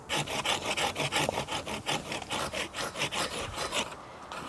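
A hand saw rasps back and forth through a maple bonsai trunk in a quick, steady rhythm of strokes, close and fairly quiet.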